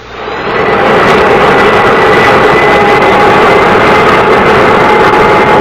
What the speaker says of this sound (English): Request permission to start engines.